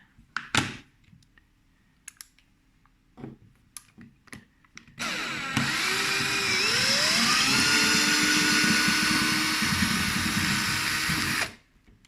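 A cordless drill-driver fitted with the smallest screw extractor bit backs out a broken wood screw. A few sharp clicks and knocks come first, then a loud, steady whirring motor with a rising pitch runs for about six seconds before cutting off.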